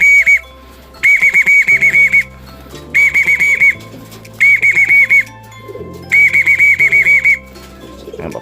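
Racing pigeons fly overhead while loud, repeated bursts of a high whistle-like tone sound in several separate clusters.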